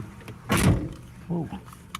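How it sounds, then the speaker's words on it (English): A solid thunk of a Nissan Rogue car door shutting at close range, followed by a softer knock and some faint movement. "Let me shut this door."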